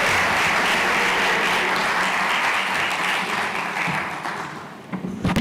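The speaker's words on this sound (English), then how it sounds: "Let's give Belozi another round of applause." Sustained, loud audience applause at a national science and technology exhibition, dense clapping filling the hall for about five seconds before thinning out at the end.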